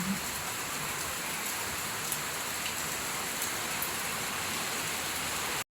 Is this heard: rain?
yes